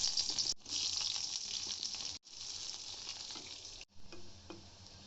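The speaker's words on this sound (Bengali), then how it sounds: "সরিষার তেল আর সয়াবিন তেল দিয়ে আমি বাগাটা দিব।" Mustard oil and soybean oil sizzle steadily while tempering is fried for a beef curry, a close, continuous hiss broken by a few brief pauses.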